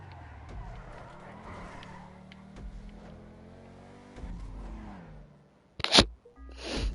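Race cars from a PS4 racing game with a steady engine drone and tire noise, a sharp skid or impact burst near the end.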